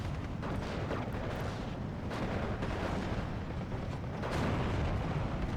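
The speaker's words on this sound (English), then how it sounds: "You see the shelling?" Artillery shelling in Steel Division 2 rumbles continuously, with a dense wash of distant booms and blasts and a few sharper impacts standing out.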